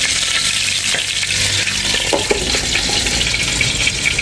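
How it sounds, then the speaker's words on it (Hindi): Egg and chicken shallow frying in a pan for a Ramadan chicken ghoozi dish, a steady close sizzle with stirring scrapes and a few clinks, no talking. "इनको हल्का सा इसका शैलो फ्राई करना है।"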